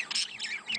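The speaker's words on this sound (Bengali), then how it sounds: "আজকে আমার বাজগার পাখিগুলো দেখুন কি ব্রিডিং করতেছে" Pet budgerigars in breeding condition give a quick run of sharp, scratchy squawks and chirps, close by but fairly soft, in a burst lasting under a second.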